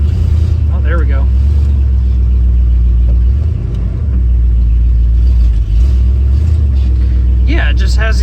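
A 1988 Jeep Grand Wagoneer engine idles steadily with a loud, low rumble throughout, while voices talk over it in a couple of spots.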